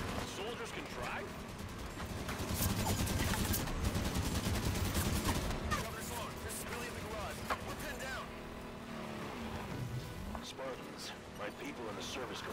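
Rapid gunfire from the mounted Warthog gun in the Halo 5 video game, a dense continuous clatter mixed with vehicle engine rumble, explosions and game effects, with voices talking over it throughout.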